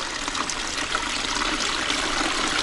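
Water trickles and splashes steadily down a rock garden water feature at close range, a continuous bright babbling with no voices over it.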